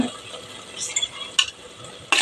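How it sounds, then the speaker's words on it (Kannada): Prawns are fried in masala and stirred in a pan, making a low sizzle broken by sharp scraping strokes of a utensil against the metal, including a loud scrape near the end, with no talking. "ಹಾಕಿ ಸ್ವಲ್ಪ ಮಸಾಲೆಯಲ್ಲಿ ಹುರಿದುಕೊಳ್ಳಬೇಕು"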